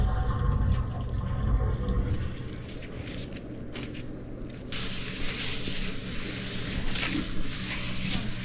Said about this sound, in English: Make sure that they all fill up before you try to flush, too.